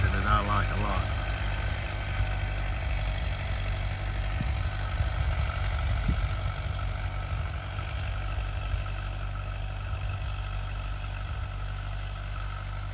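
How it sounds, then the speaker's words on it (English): A Farmall 404 tractor engine runs steadily at about half throttle with a low, droning rumble throughout, heard from the operator's seat during corn planting. A person briefly talks over it near the start. "I'm on the 404 here. You got to run this thing about half throttle."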